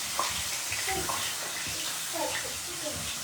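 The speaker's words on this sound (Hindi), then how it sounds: "हल्का सा इसमें पानी का यूज करूँगी" Water is poured into simmering gravy in a cooking pan, giving a steady, close splashing hiss with faint sizzling and a soft voice in the background.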